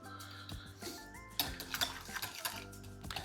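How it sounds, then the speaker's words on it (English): Whisk clinking and scraping against a bowl while cream cheese and yogurt are mixed together, a quick irregular run of light metallic taps and rattles, close and fairly quiet. "So I'm gonna give this a mix together, the cream cheese and the yogurt."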